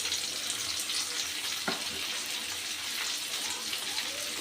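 Masala of ground ginger, dried chili and turmeric with potato, eggplant and onion frying in a pan, a steady broadband sizzle with a faint stir or clink partway through.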